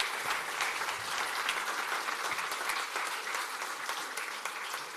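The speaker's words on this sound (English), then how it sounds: "I would like you to join me in giving a big applause to this excellent panel" Conference audience applauding a panel, steady dense clapping from many hands filling the hall for several seconds, sustained without pause.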